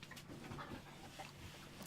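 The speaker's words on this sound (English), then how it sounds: "Here comes a puppy." A puppy panting softly and steadily at close range, quiet breaths with faint whimpery notes, no talking.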